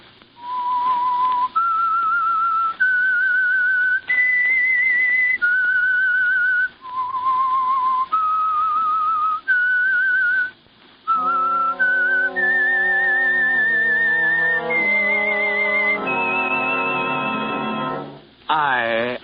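A clear whistled signal tune from the 1955 radio drama The Whistler, sustained single notes stepping up and down, followed by a fuller phrase over accompanying tones, loud and close.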